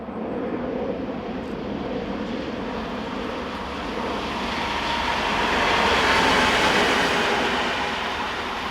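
Locomotive 221122 of EFW Transport Company rolls past with a train, a broad continuous rumble and rushing wheel noise that swells to a peak and then eases slightly, with no voices.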